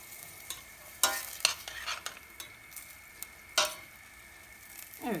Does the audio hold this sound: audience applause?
no